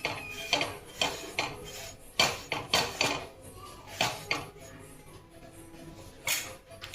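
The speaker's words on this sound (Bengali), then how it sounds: "চাটিটাকে মুছে নেব।" Metal scraping and wiping across a hot iron tawa griddle after roti cooking, a series of close, rhythmic rasping strokes with clanks, no talk.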